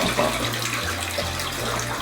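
Water runs steadily from a tap nearby in a restroom at Taiwan International Airport, a constant splashing rush with no voices.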